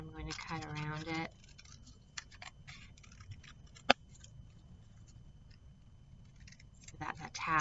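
Scissors snip around a paper cutout for a unicorn or horse marionette: sparse, quiet, irregular clicks close by, after a short stretch of talking.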